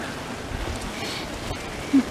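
Steady rain falls outdoors on a rainy day outside a brewery, a continuous soft hiss with faint scattered drops and no voices.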